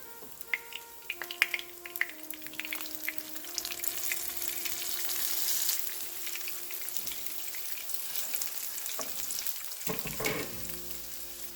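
Vegetable fritters frying in a pan, a steady close sizzle with light crackles, occasional clinks and a stir or flip near the end, no talking.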